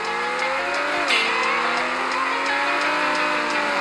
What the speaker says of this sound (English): that was one hell of a drift